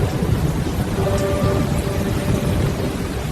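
Steady rain pours outside with a low rumble of thunder rolling underneath, a dense continuous wash of noise throughout with no voices.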